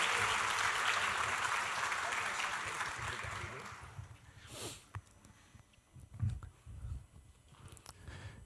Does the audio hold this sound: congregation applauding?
yes